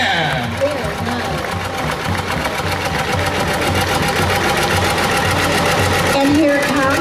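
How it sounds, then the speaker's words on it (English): A restored 1949 John Deere Model R diesel tractor chugs past in a rodeo parade in Livermore, its engine giving a loud, steady, rapid knocking throb throughout, with a voice talking over it. "here comes the 1949 John Deere Model R diesel tractor"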